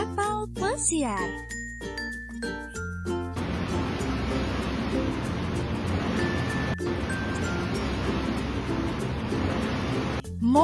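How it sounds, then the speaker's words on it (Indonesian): A cruise ship at sea, heard as a steady broadband rumble of engine and water wash running unbroken for several seconds, preceded by a brief bright chiming jingle and followed by another short cue at the end. "Kapal pesiar"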